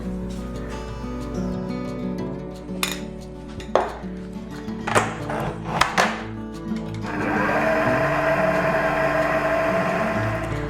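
A mixer churns mango mousse at its lowest speed, a steady low whir that starts after a few clinks and knocks of utensils against a bowl, close by with no talk.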